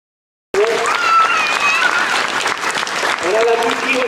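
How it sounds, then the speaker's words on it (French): Audience applause at a charity cheque presentation in Ottange, a dense burst of clapping that starts abruptly and holds steady and loud, with voices calling out over it. "J'aimerais bien un petit applaudissement après."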